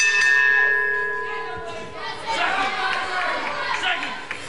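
A boxing ring bell ends round four of a bout, ringing loud and clear at the start and ringing on as it fades, with crowd noise and a commentator's voice rising over it.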